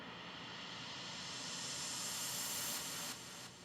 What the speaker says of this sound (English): So it's a white noise riser.